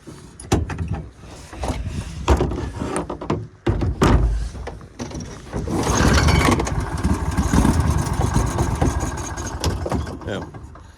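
An Argo ATV engine runs with a carburetor miss, its rough, uneven sputter rising into a louder, steadier revving stretch, with voices talking over parts of it.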